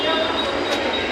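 A local train passes through Thane station, a steady loud rumble of rail noise with high metallic ringing, continuous and close throughout the short stretch.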